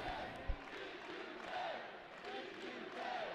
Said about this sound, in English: this crowd counting down to another Louisville win